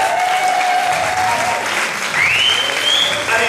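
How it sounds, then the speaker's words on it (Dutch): An audience claps steadily and loudly throughout, a dense wash of applause with a few whistles rising over it. "Een prachtig publiek applausje voor jezelf."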